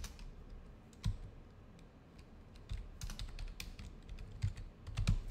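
Quick bursts of keystrokes on a computer keyboard entering a new folder name, close and crisp, with irregular clicks and a few heavier key strikes, over faint background hum.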